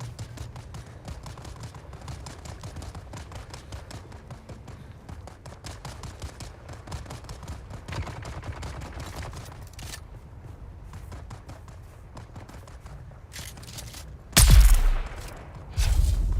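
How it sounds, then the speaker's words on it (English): Gunfire in the video game Dune Awakening: a long, steady run of distant, faint rattling shots under a low background rumble, ending in a couple of louder, closer bangs. "hear the gunshots. Somebody's having a time."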